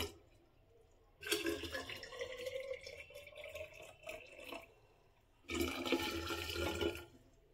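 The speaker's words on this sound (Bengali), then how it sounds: "তো জলটা আমি এখন ঢেলে দেব, গরম করে নিয়েছি।" Heated water is poured in two separate bursts, a longer one near the start and a second after a short pause, close by and fairly quiet, with a splashing, liquid pour and no talking.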